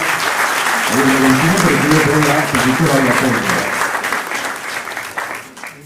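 Loud, full applause from an audience at a regional museum's thirtieth anniversary event, sustained throughout and easing slightly toward the end, with voices mixed in beneath the clapping.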